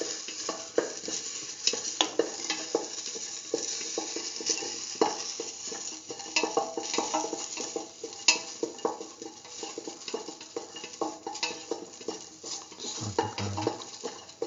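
Garlic sautés with salt in a hot pan for a split mung bean and eggplant rice dish. A dense, continuous sizzle runs throughout, broken by frequent scrapes and taps of a spoon as it is stirred, with no voices.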